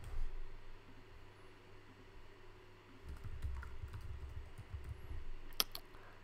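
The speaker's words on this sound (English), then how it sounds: "Just finish off typing that email incorrectly." Typing on a computer keyboard, faint irregular clicks of keys that pick up into quicker bursts in the second half, recorded quietly with low background hum.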